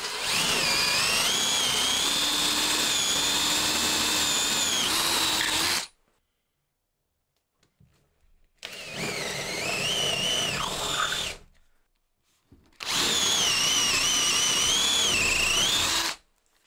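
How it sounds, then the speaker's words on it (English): A power drill bores holes through a wooden workbench in three long, loud bursts of steady whining, each several seconds long, separated by near-silent pauses. "So now I can get it lined up on all the marks I've drawn and drill through the bench."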